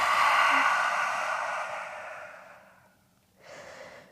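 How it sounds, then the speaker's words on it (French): A deep breath in through the nose and out through the mouth during a yoga session, one long, loud airy exhale fading over a few seconds, then a brief softer breath after a short pause. "Prenez une grande inspiration ici par le nez et relâchez par la bouche."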